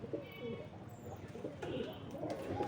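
Soft, low pigeon coos repeat in short rolling phrases, close by, with a faint higher chirp and light background noise.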